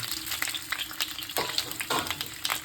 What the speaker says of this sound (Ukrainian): Та її підсмажуємо так, щоб корочка була.